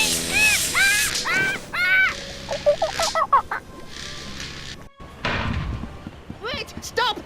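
Parrots squawk in the pirate adventure video game Tales of Monkey Island, a run of harsh, repeated cries, close and loud, under game music and background sounds.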